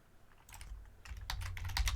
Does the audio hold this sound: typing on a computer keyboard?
yes